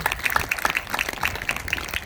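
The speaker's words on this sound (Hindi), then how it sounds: "बजाओ इनके लिए ताली" An audience claps together at a Brahma Kumaris Shiv Jayanti spiritual gathering, a steady wash of hand claps of medium loudness lasting the whole moment with no talk over it.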